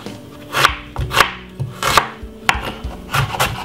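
A medium-sized white onion chopped on a board, about eight sharp knife strikes in an uneven quick rhythm, close and clear with no voices.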